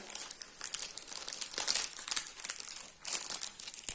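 A Wankul trading card booster pack being torn open: close, crisp crinkling and tearing of foil wrapper in irregular bursts, with no voices.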